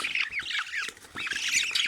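Young birds squawk and chirp rapidly in harsh, overlapping calls, close by and fairly quiet.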